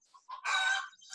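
A brief burst of chicken clucking and squawking, close and fairly clear, lasting about a second with no talking.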